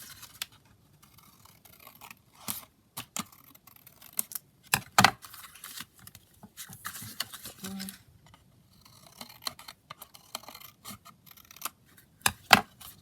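Scissors trim paper craft material for a handmade flip-pad book, giving a few short, crisp snips scattered through a quiet room, with soft handling rustles between cuts.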